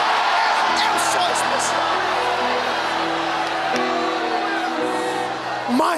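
A church congregation shouts and cheers together at a loud, sustained level. The crowd roar fills the whole stretch, with voices declaring in unison over it.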